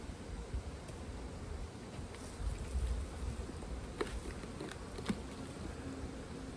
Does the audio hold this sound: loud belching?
no